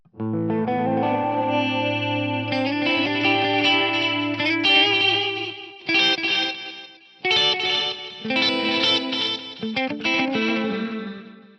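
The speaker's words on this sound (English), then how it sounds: "I do quite like this kind of detuned delay thing" Guitar playing through an Eventide Eclipse detuned delay and pitch-shift effect, shimmering chorus-like tones with echoing repeats, several phrases separated by short pauses.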